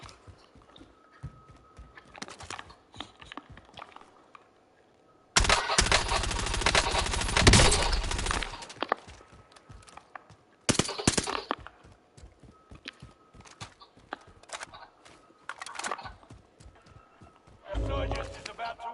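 Shooting in the battle royale game Warzone: a sustained, loud burst of fire in the middle, with sparse shots before it and another burst near the end, under occasional talk.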